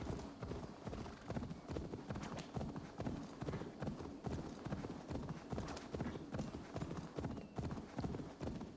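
Horse hooves clip-clop in Assassin's Creed Valhalla, a steady, fairly loud rhythmic gallop running throughout with game ambience, plus a brief whinny-like sound.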